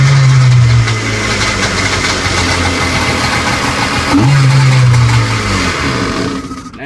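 A Kawasaki SS750/SX650 jet ski engine runs loudly and close during a flush, holding a steady idle with two brief revs up in pitch.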